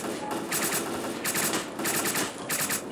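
Automatic gunfire in the video game STALKER Clear Sky, rapid bursts of shots in three quick volleys, loud and close, with no talking.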